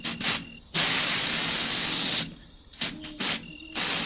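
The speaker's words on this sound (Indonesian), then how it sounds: "ayam tetap berkokok tapi dengan jenis berkokok desis" A rooster at dawn gives hissing bursts in place of a crow, several loud sprays of hiss with a long sustained one and shorter pulses, close and alone.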